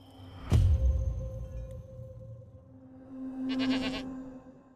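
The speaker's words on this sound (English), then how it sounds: "It's a goat calling." A goat bleating in an advert: a drawn-out, wavering, nasal call rising near the end, following a low thump and a soft background hum, with no talking.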